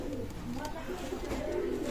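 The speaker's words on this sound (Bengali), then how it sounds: "শিয়ালকুটি কবুতর চমৎকার ব্লাডলাইনের কবুতর" Shialkuti pigeons at a loft coo in a continuous low murmur, several birds blending close together under faint background voices.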